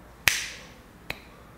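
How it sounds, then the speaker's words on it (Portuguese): Two sharp finger snaps, the first crisp and loud, the second softer nearly a second later, each standing alone in a quiet room. "Por que é que se chama estalar de dedos se o som não vem do estalo de dedos e sim do teu dedo batendo na palma"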